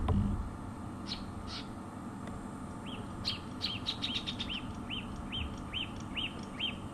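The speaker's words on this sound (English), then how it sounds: "the puffback shrike that was calling there and the drongo, they're both on alert" Puffback shrike and drongo alarm calls at a rocky bank on a sunset safari, a run of sharp, repeated chirps that speed into a fast, steady series over a faint outdoor background.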